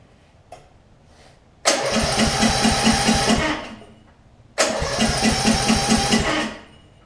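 A Briggs & Stratton Intek engine on a Snapper RER riding mower, fitted with a replacement camshaft and automatic compression release, is cranked twice. Each attempt is a loud, rhythmic starter-driven churn lasting about two seconds, with a quiet pause between them.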